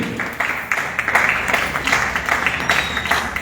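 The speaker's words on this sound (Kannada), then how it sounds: "ಜೋರಾದ ಚಪ್ಪಾಳೆ ಬರಲಿ." Loud, steady applause from an audience honoring young singer Kumari Abhijna Holagundi at a Dasavani devotional music program, with dense overlapping claps and no voices.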